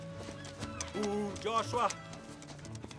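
A horse stands close by, with soft hoof clops and a short whinny in the middle, while a person calls out and speaks over it.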